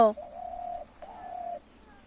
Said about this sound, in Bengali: এই যে গাছের উপরে গুগু পাখিটা ডাকতেছি